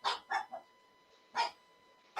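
A small dog trapped behind a chair barks in short, sharp yips, three in quick succession, then a pause, then two more, fairly quiet and with no talking.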